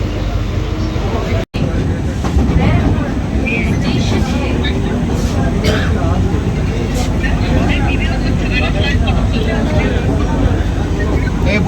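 A Sealdah–Ranaghat AC local train runs between Khardaha and Barrackpore with a loud, steady rumble and hum inside the carriage, with voices in the background.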